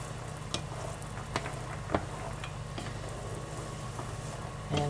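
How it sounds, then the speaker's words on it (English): Vegan almond brittle candy being stirred in a pot, with a low steady bubbling sizzle and a few sharp clicks of a utensil against the pot, fairly quiet, no talking. "And stir as needed"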